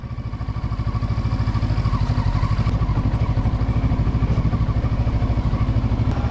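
A Kawasaki Versys motorcycle engine thrums steadily and loudly while riding off-road, holding an even, pulsing beat throughout.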